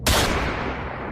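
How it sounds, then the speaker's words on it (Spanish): A single loud gunshot sound effect cracks sharply and decays into a long, booming reverberant tail over about a second, standing alone without voices. "un disparo a la cara la mató al instante"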